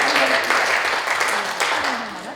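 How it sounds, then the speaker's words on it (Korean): Applause from members at a general assembly of a digital photographers' association, a sustained round of many hands clapping with a voice speaking over it. "박수로 환영해 주시죠."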